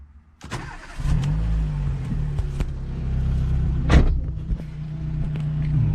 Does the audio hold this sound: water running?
no